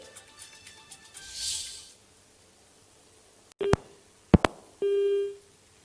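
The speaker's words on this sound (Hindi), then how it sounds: "तकनीकी खामी की वजह से साक्षी से संपर्क टूट चुका है, फिर से जुड़ने की कोशिश करेंगे।" Telephone line after a dropped call on a news broadcast: a short run of rhythmic tones and a burst of noise, then silence, a few sharp clicks, and a steady busy-signal beep, close and clear with no talking.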